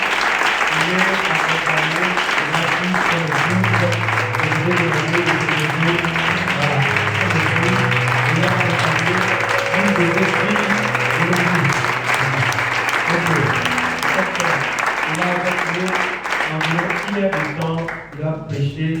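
A church congregation at a prayer retreat applauds and cheers in praise, with steady dense clapping and crowd voices over music lasting the whole stretch, loud and close, tapering briefly near the end.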